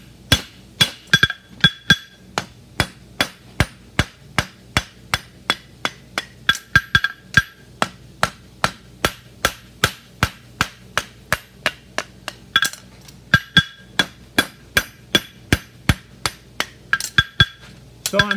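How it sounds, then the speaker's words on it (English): A blacksmith's hammer rings steadily on a horseshoe over an anvil while beveling the shoe for a Stoneleigh hind shoe, with dozens of sharp, evenly spaced metallic strikes, loud and close, with no talk. "I'm leaning my hammer a little bit out so that I can accentuate that bevel a little bit"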